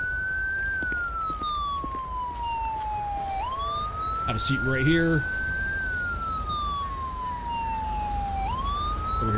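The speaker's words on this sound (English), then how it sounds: "Over here and turn my siren off." A police car siren in the video game GTA V wails in long rising and falling sweeps, loud and continuous, while someone briefly speaks over it midway.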